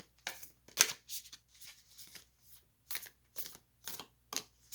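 Tarot cards being shuffled in a series of quick riffling bursts, close and fairly quiet, with short pauses between each pass.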